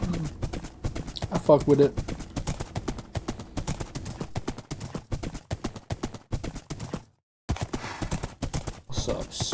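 Horse hooves while riding a horse in the video game Minecraft: rapid, rhythmic clip-clop footfalls continuing almost throughout, with one brief silent gap, under someone talking.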